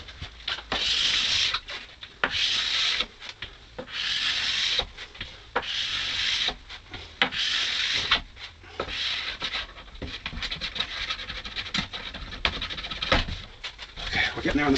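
A plastic scraper pulls hot-boxed wax off the base of old, well-used skis in repeated rasping strokes, loud and close, with short pauses between passes.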